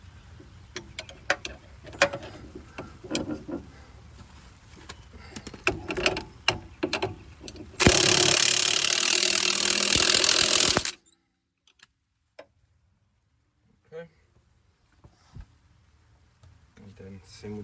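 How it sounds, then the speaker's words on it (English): Quick series of clicking ratchet strokes tightening a 19 mm sway bar link bolt under a car, with someone talking around the clicks, followed by a few seconds of loud steady mechanical noise and then near silence with scattered clicks. "I'm gonna bolt it on. So 19 is the size we want."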